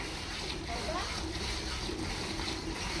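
A Kankrej cow drinks from water in Banaskantha, with steady sloshing and splashing close by while people talk over it throughout.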